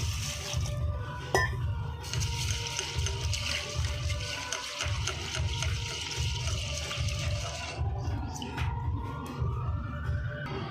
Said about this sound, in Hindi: पहले तो दाल धोएंगे।